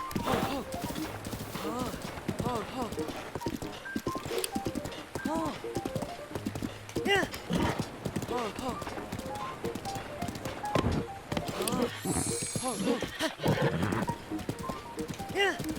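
A horse in Zelda: Breath of the Wild trots with rhythmic clip-clop hooves and gives several whinnies, close and steady, while a person talks over much of it.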